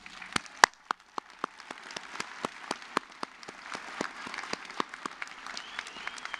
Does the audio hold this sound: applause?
yes